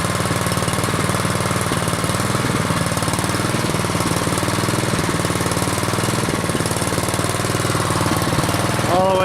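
A Troy-Bilt Storm 2840 snow blower engine runs steadily nearby, its loud, rapid chugging putter constant for over nine seconds without voices.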